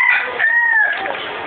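A close, loud crow from a chicken rises, holds and falls away, with rough clucking texture around the call.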